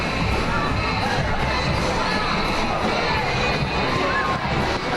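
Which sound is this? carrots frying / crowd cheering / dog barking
crowd cheering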